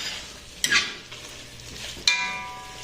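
Lamb shank in a creamy garlic sauce sizzles softly in a pan, with two distinct metallic scrapes and clinks from stirring over a steady low simmer.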